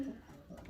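Racing pigeons coo softly in a loft, a low murmuring burble that rises and falls across a short stretch, faint and close with no talk over it.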